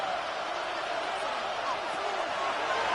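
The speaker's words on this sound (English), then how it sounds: "What about this crowd getting even louder before 3rd and 10?" Dense, steady roar of a football stadium crowd in Dallas swelling ahead of a third-and-ten play, a broad continuous wash of cheering that holds loud for the whole stretch.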